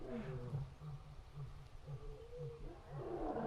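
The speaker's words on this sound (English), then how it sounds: "I hear the lion singing in the background" A lion roars repeatedly at a wildlife sanctuary, deep rhythmic grunting calls that pulse in a steady series, fairly close and loud, with no talking over them.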